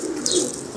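A fine show pigeon coos softly and close by in a loft, one low murmuring call over steady background hiss, with no talk.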